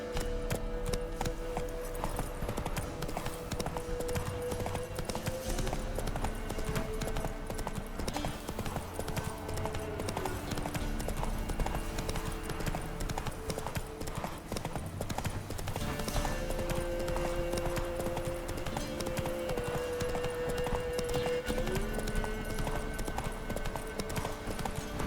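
Geralt's horse Roach gallops in The Witcher 3, a continuous driving clip-clop of hooves running the whole time beneath sustained orchestral game music.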